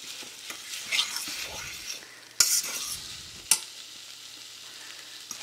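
Currants being stirred and mashed in a small pot over low-medium heat for jam: soft wet squelching and scraping strokes, with a couple of sharp metallic clinks of the utensil against the pot, close and fairly quiet.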